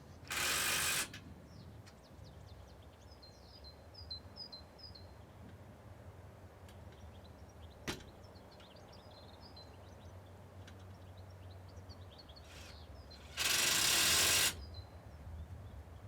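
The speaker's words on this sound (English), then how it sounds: "Bolt the vertical to the flat plate on the side rail" A ratchet clicks in two short, loud bursts while bolting a vertical to the flat plate of an aluminium polytunnel side rail outdoors, with faint birdsong and a quiet background between the bursts.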